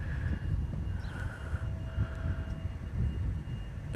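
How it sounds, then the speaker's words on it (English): A FedEx cargo jet taxis at Honolulu airport, its engines giving a low steady rumble with a faint whining tone, moderately distant and heard alone. "FedEx is taxiing over here"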